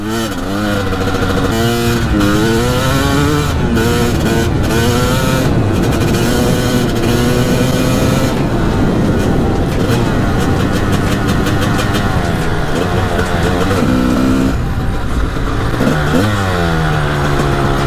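A Honda CR250 two-stroke dirt bike revving hard while being ridden, its loud buzzing engine note rising and falling through repeated throttle bursts and gear changes, close and continuous throughout.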